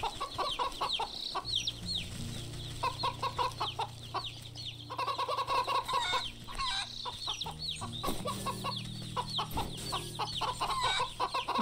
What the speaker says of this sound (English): I think there are two chickens over in this area.